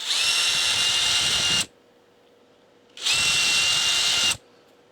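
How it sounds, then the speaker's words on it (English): A power drill with a 3 mm bit bores out holes in a solar node enclosure. It runs in two loud, steady bursts of about one and a half seconds each, with a short quiet gap between them. "I'm going to drill these out with a"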